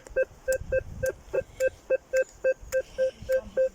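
Repeated short electronic beeps from a metal detector sweeping over a target in a forest, about a dozen evenly spaced tones, loud and close, with faint rustling beneath.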